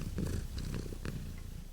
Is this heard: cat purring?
yes